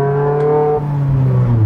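A Mazda race car driven on a public road, its engine holding a steady, loud tone with strong harmonics that shifts slightly as it runs on, with no talking.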